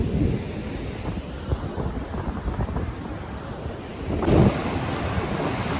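Surf rumbles and washes steadily onto the beach at Puri, with a louder wave breaking near the end amid some wind buffeting.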